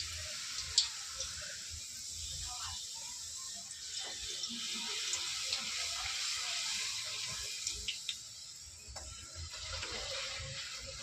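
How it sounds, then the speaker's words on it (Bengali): Stuffed kachori deep-frying in hot oil, a steady bubbling sizzle that holds at a moderate level throughout with small pops and crackles, no voices. "এবার ভেজে দেখাবো তোমাদের।"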